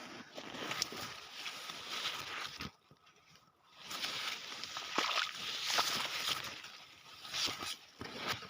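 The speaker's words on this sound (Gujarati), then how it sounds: "પાણી હાલ્યું જાય" Quiet water sloshes and trickles continuously outdoors through the furrows of a soybean field, with a brief lull partway through before the soft gurgling resumes.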